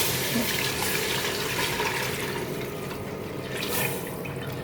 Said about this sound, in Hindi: 2 किलो हमने इसमें दूध डालना है